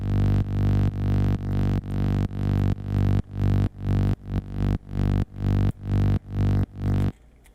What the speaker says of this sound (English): So your bass should sound something a little like that, where half of it's not playing